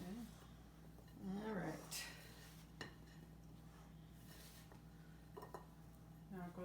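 A spoon clinks and scrapes against a bowl while sugared rhubarb is stirred for a pie, with a few sharp knocks, one standout tap midway, under close, casual talk.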